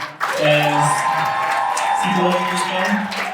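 A crowd at a career and entrepreneurship expo claps steadily while voices cheer and whoop over it, a dense sustained wash that swells early and holds for a few seconds.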